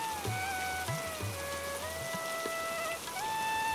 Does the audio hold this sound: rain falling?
yes